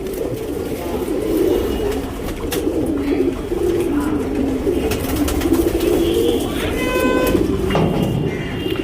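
Racing pigeons readied for a tournament coo in soft, repeated rolling calls close by, with someone talking over them and a few sharper bird sounds near the end.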